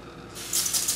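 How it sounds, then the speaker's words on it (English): A few quick bursts of fine water mist from a small spray bottle hit a makeup pigment lid, close and crisp, following a soft mechanical click. "I'm gonna give it a pretty good spray there"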